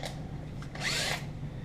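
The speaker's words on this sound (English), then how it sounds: "drill through that and then drill into the baseboard just a little bit" A power drill bores through into a wooden baseboard, giving a short whirring burst that lasts under half a second after a brief light scrape, close and moderately loud.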